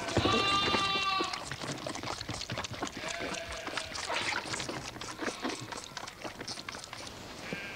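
Lambs on a sheep farm bleat repeatedly, a clear cry near the start followed by more distant calls over steady outdoor background noise.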